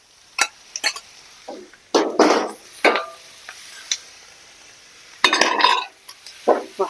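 Pig ears hit a hot wok and are stir-fried, giving short sizzling bursts and scraping spatula clatter in an irregular stop-start rhythm, close by over a quiet kitchen background.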